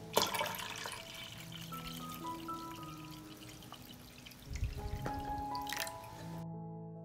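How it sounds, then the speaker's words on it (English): Water pours into a pot of glass jars set on a kitchen towel for pasteurizing, with splashes and drips, gurgling and a brief rush of flow near the end before it cuts off. "I pour water into the pot up to the height of the lid."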